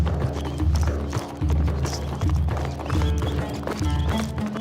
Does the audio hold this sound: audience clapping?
no